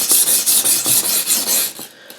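A rasp files the edge of a Newfoundland skinning knife in about eight quick, even strokes. Each stroke is a close, loud, gritty scrape.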